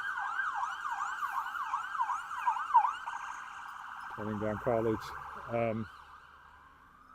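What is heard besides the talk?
ambulance siren going by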